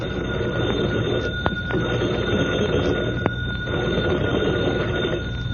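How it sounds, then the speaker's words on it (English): A telephone bell rings in a firehouse scene of an old radio drama, a steady, continuous loud ring over a dense, band-limited broadcast background, with no talk. "the phone bell rang"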